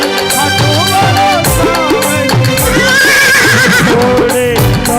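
Horse whinny effect rising and falling several times, laid over continuous loud devotional music in a story of Baba Shyam riding his blue horse.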